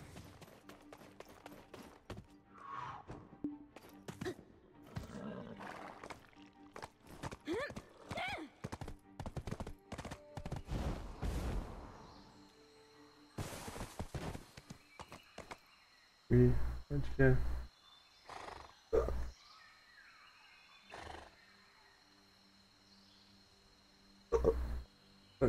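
Hooves clip-clop in quick runs as a horse is ridden in the video game Black Desert, the pattering broken by louder thumps and a whinny, with people talking at times.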